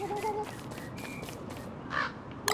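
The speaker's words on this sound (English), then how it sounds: "I hear a bird. Come here, bird." Bird calls in the video game Don't Starve, a series of short caw-like cries repeating several times over low background ambience, fairly faint and alone.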